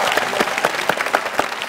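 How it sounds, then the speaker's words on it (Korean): Brief burst of close, lively studio audience applause on a Korean TV talent show, with many hands clapping at once in a fast, dense patter. "어머님을 큰 박수로 환영해 주시기 바랍니다"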